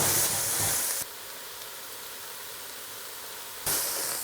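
Steady broadband hiss and sizzle of onions frying in a pan, louder at the start and end, with no voices.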